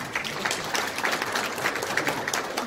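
A meeting audience at a Hwaseong citizens' regional council session applauds a hardworking public official, giving a steady burst of many hands clapping close by with no talking.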